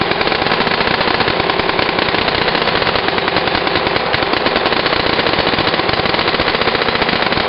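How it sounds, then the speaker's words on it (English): Planet Eclipse Etek3 paintball gun dry firing in a continuous rapid stream of sharp mechanical shots, loud and close, with a steady machine-gun-like rhythm throughout. "Let's dry fire a little bit."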